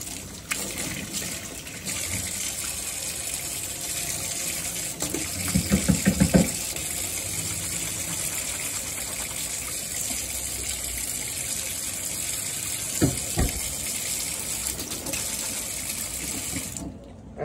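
A tap runs steadily into a sink as hands are washed under it, a continuous close rush broken by a few short clattering knocks midway and again near the end.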